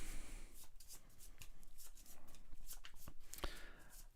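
Villain cards being shuffled for a Star Wars Pandemic board game, a run of quick papery riffles and soft card flutters, fairly faint and close, with no talk over them.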